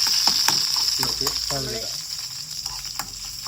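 Onion, green chili and curry leaves sauté in hot oil in a home kitchen, a close, steady crackling sizzle with a brief voice passing over it.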